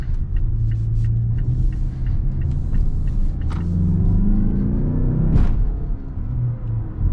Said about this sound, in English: the power is being delivered to you by a 2-liter 4-cylinder engine